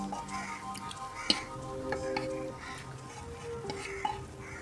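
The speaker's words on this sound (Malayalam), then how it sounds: "നന്നായി ഇളക്കി കൊടുക്കാം." Chicken being stirred into an egg, milk and flour batter, a steady soft wet stirring with light scraping and a few faint clicks against the bowl, no voices.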